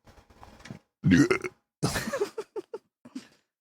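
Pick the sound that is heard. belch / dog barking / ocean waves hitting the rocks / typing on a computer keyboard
belch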